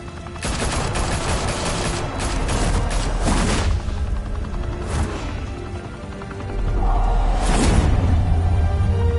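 Sustained gunfire in a Batman video game, dense bursts of automatic shots mixed with booms and whooshing effects, loud and continuous for the whole stretch with no talk.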